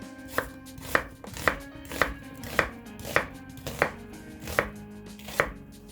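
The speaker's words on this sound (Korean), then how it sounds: "양파는 채를 썰어 주시고요" Knife slicing an onion into strips on a cutting board in a slow, even rhythm, about ten sharp close knocks, with a faint hum beneath and no talking.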